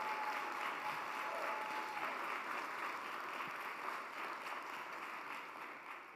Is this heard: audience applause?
yes